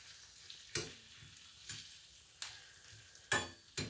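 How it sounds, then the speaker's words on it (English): Yucca blossoms with garlic powder cook down in a pan under a quiet sizzle, punctuated by four or five distinct scraping stirs spaced about a second apart, close but soft. "So I'm going to add some blossoms and cook them down, see what happens."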